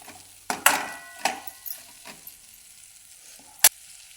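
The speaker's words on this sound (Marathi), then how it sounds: "यात लगेच वरतून मीठ टाकून घ्यायचं तुम्ही तुमच्या आवडीनुसार टाकू शकता हे छान परतून द्यायचे" Tomatoes being sautéed in a pan, with scattered stirring clatters and brief bursts of sizzle, plus one sharp utensil knock near the end, close and fairly quiet, with no voices.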